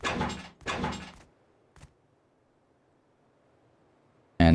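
Double doors being placed while building a base in Rust, heard as a short, hollow thunk in a quiet gap that follows a couple of louder clattering bursts. The clip closes with a sudden loud sound.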